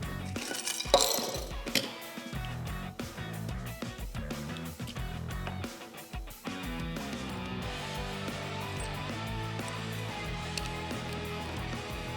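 The nose piece of a DeWalt 20V MAX XR 3/16 in rivet tool is unscrewed by hand, giving close metallic ratcheting clicks and faint clinks in quick irregular runs, with no talking.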